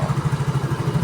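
A Mio Soul 115 fuel-injected scooter engine idling with its battery removed, a steady, close, rapid putter of evenly spaced pulses.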